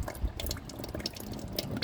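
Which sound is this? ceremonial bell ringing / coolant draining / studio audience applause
coolant draining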